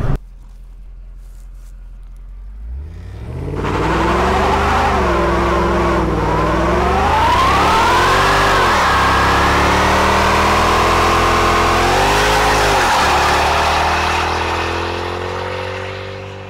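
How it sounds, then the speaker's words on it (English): A Mercedes S63 does a burnout: after a brief quiet start, the engine roars up and revs hard through several rising and falling surges while the tires scream, loud and close, then tapers slightly toward the end. "Remember the burnout in the S63?"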